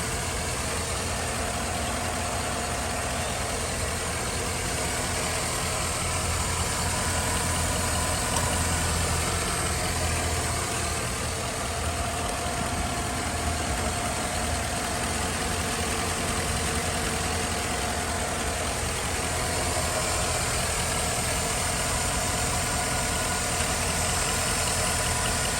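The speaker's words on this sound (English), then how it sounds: "pretty quiet engine" A 2011 Chevrolet Silverado 1500 LT pickup idles with a quiet, even engine hum and faint mechanical ticking, steady and unbroken from near range.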